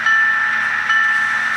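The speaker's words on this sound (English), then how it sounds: "First we're going to listen to the bell." Rapido-TCS sound decoder in an HO scale M420 model locomotive plays its electronic locomotive bell, a steady, bright, continuous ringing tone that holds at an even loudness with no voices over it.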